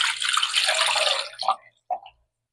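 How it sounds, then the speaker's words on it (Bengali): Water is poured into a hand-mixed mango panna drink, a brief splashing pour that stops, followed by two small separate splashes or drips close by. "এবার দিয়ে দিব পানি"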